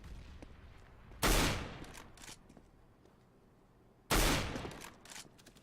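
Two loud, isolated rifle shots in CS:GO on the map Dust2, spaced a few seconds apart, each a sharp crack with a ringing tail, over quiet background game noise.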